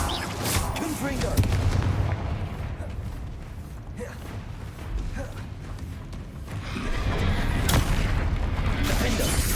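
Confringo blasting spell explosions in the Hogwarts Legacy video game, loud booming blasts and rumbling battle effects that come in several heavy bursts, with a voice shouting spell names over them.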